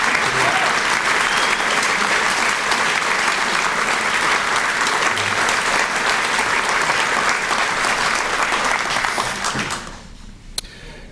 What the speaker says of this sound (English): I'd just like to ask for one more round of applause for our several Midway veterans